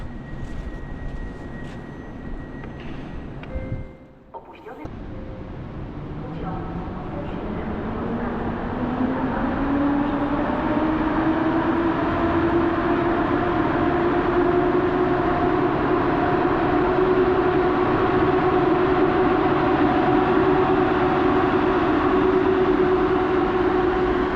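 At Warszawa Zachodnia station, a train in winter rumbles steadily after a brief dip, with a rising tonal whine that swells and holds as the motors pick up, loud and close throughout.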